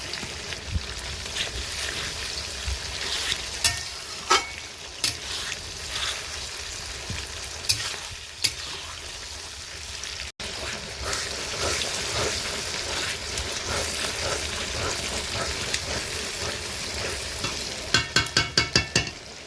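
Tomato with ginger, garlic and green chillies frying in a pan for a meat curry, a loud continuous sizzle with intermittent stirring scrapes and a cluster of sharp clatters near the end, close-up and alone.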